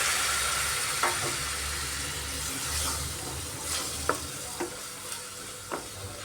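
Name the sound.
cabbage masala sautéing in a pan with a little water added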